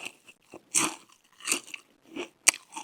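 Crunchy bites into a Raising Cane's fried chicken tender, close and loud: several sharp crackling crunches in an uneven rhythm, separated by short quiet gaps of chewing.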